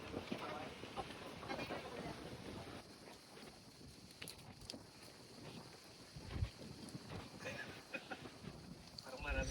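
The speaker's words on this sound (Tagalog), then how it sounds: "So, windy." Wind buffets the microphone outdoors at a picnic grove in Tagaytay, a steady low rumble and rush throughout, with faint voices in the background.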